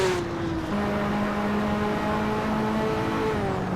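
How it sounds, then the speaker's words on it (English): A loud race car engine drones close by with a steady, raspy roar and a pitch that shifts slightly as it runs. "ain't Dusty's car is noisy"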